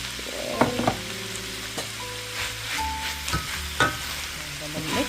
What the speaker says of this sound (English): So I'm going to add my corned beef now.